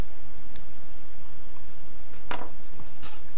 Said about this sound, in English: trim it with my snips